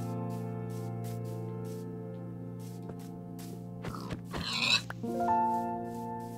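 A pig in the Minecraft video game gives a few faint grunting oinks over quiet sustained background music tones.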